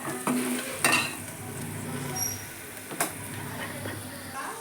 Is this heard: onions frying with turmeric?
yes